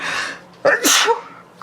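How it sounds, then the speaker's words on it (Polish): A single sharp sneeze bursts out indoors, with a quick intake of breath before the explosive release, loud and close in an otherwise quiet room. "Musiałam sobie kichnąć"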